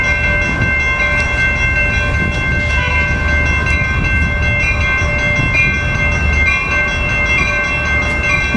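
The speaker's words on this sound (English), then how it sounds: "here comes the same Amtrak as last time out of Santa Fe Depot" An Amtrak train rolls past in San Diego out of Santa Fe Depot, a steady loud rumble of wheels and cars with a sustained ringing tonal layer throughout, close by and continuous without talk.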